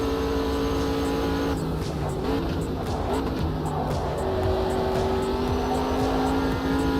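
A race car engine in a racing video game screams at high revs with a constant whine that shifts pitch over several seconds, joined by another car's engine passing, loud and steady with no talk.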